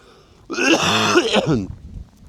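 One loud, harsh throat clearing, close up, lasting about a second before fading.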